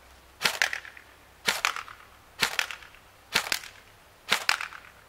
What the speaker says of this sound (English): I'm going to fire 5 shots on semi-automatic at each one in sequence